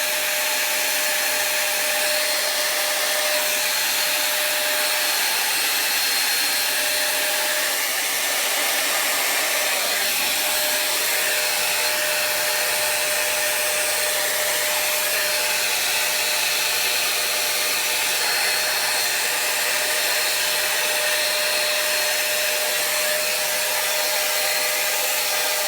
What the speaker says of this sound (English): this brush for me with this hairdryer is a game changer